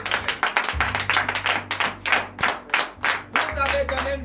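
Congregation clapping in acclamation at a church prayer service, loud rhythmic handclaps repeating in quick bursts, with a low sustained tone underneath.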